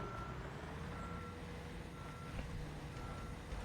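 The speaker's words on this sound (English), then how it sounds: "The engine sound with the backup alarm is kind of soothing." Steady reversing beeps from a truck backing up in the Construction Simulator video game, a high repeating tone over a continuous low engine rumble, with no talking.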